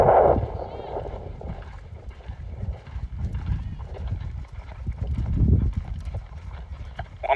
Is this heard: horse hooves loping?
yes